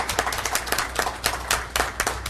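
Steady applause from a crowd at a city council meeting honoring police officers, with brisk, even clapping that continues throughout and no one speaking.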